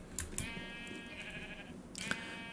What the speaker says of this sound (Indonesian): Gila, kambingnya mengejar kita